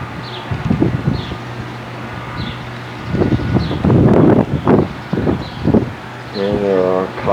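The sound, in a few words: wind on a mountainside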